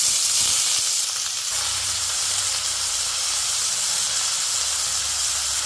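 Green chillies and onion sizzle loudly in hot oil with a dense, continuous hiss that holds steady throughout, close and unbroken.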